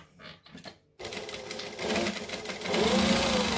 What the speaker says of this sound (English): I'm going to top stitch along the top of this pocket.